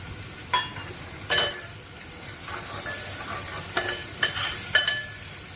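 Onion and tomato fry in oil in a pan as spices go in, with a soft continuous sizzle punctuated by several sharp scraping strokes of a spoon, close and clear, no voices.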